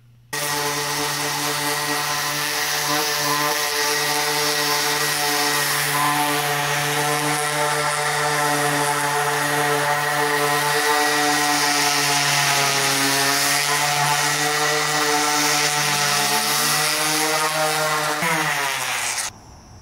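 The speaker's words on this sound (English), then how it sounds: "So, let's get a sander and let's go finish this keelson." A power sander working over an epoxy-coated boat keelson, a continuous loud tonal whine with a steady pitch that wavers slightly under changing pressure, then stops near the end.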